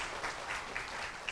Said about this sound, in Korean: 큰 박수로 총장님 맞이해 주시기 바랍니다